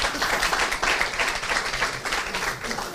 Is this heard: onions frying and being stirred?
no